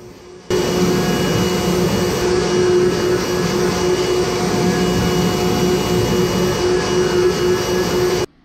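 A Carvewright CNC machine carving a project, a loud, steady motor whine and grinding hum that starts abruptly, holds evenly for several seconds, then cuts off.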